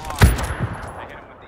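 A single sharp burst of A-dub rifle fire in PUBG, one loud close shot with a short ringing tail, over in a moment.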